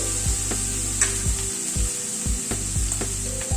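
Fish with ginger, green chili, salt and turmeric is stirred in a sizzling pan, a constant close hiss with a regular rhythm of spoon strokes scraping the pan, no voices.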